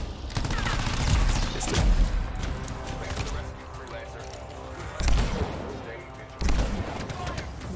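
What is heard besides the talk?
sniper rifle shots in the video game Anthem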